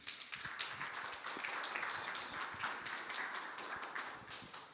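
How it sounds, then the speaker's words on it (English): Audience members applaud the panelists at a discussion on working with small and big fleets, with a modest, fairly quiet patter of clapping by a small group that continues steadily for several seconds. "So give please a round of applause to our panelists."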